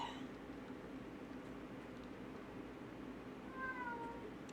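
A house cat meows a few times near the start and end, fairly faint against steady room hum, with no talk.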